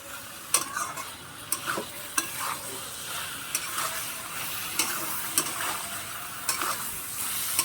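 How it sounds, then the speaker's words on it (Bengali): Flat beans with shrimp and mustard paste frying in a pan, stirred with a utensil that scrapes the pan in steady strokes about once a second over a continuous close sizzle. "এটাকে আমি এখন ভালো করে নাড়তে হবে।"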